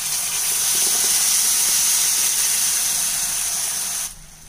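Ground tomato paste poured into a hot pan for a Tamil tomato gravy, giving a loud, steady broadband sizzle that holds evenly for about four seconds before cutting off abruptly.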